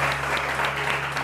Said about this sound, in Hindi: बहुत सारी तालियां डॉक्टर मेराहिल के लिए